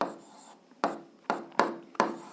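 Handwriting out a math exercise: four crisp taps of a pen or marker hitting the writing surface, each followed by a short scratchy stroke, close up and evenly spaced, with no voices.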